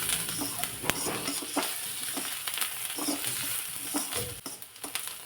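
Onion sautéing in a pan with crushed garlic for a spicy bean curry, a steady close sizzle broken by repeated scraping stirs of the spatula, with no talking.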